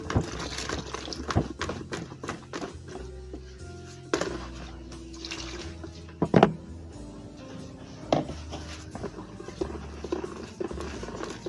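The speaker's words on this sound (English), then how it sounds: "pour in a little mix." Liquid soap mix with dissolved soda ash, made with palm oil, is poured in uneven splashes and trickles, with knocks and clatter from containers in between.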